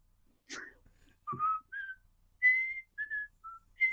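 A person whistles a short tune of separate rising and falling notes, with a breath or two between phrases, close and fairly quiet.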